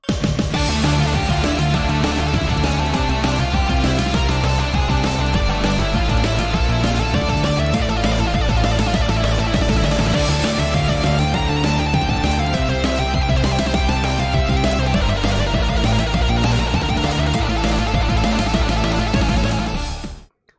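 Fast, driving guitar-led boss battle music from Super Meat Boy, loud and continuous throughout with dense layered instruments and heavy rhythm.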